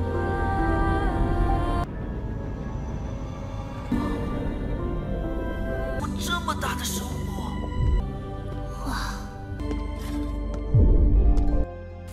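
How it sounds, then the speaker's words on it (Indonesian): A steady thumping heartbeat sound effect pulses beneath a low hum in an animated story scene, with a voice narrating over it. "Yuki baru sadar kalau ini adalah Xintiaoseng atau detak jantung."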